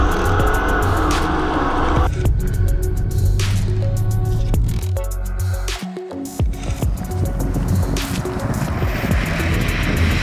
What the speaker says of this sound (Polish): Po raz kolejny Volvo zatrzymało się zdecydowanie szybciej